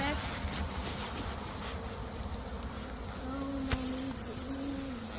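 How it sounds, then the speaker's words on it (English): A cloud of honey bees shaken off a hive frame, a dense steady buzzing of many insects close by, with wind noise and a brief thump partway through. "Makes a cloud of bees"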